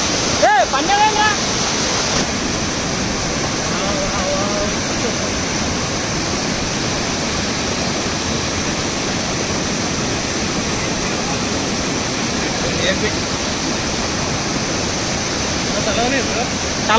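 Steady, dense roar of water pouring down the Kusrampalli waterfall near the Telangana–Karnataka border, a constant broadband rush filling the whole span with brief faint voices early on.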